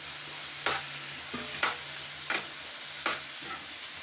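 Chana dal, dried chillies, onion, salt and tomato sauté in a pan as a spatula scrapes in four evenly spaced strokes over a soft, steady sizzle, fairly quiet and close.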